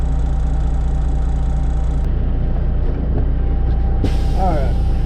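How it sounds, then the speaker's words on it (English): A big truck with a Caterpillar diesel engine idles and rumbles steadily with strong low drone and harmonic hum, heard up close from a roof-mounted position, with brief hiss and squeaky tones near the end. "Caterpillar engine."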